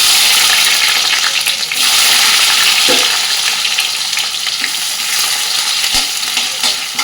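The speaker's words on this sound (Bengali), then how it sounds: "শুকনো লঙ্কা দিয়ে দিলাম, একটু সাদা জিরে, পেঁয়াজ কুচি," Dried red chillies, cumin seeds and chopped onion sizzle loudly in hot oil, a steady close crackle with occasional stirring knocks and no voices.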